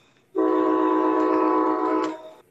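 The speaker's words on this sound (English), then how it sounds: "There's your train." A passing train sounds its horn in one loud, sustained, steady blast lasting about two seconds before cutting off, heard on its own with no talk.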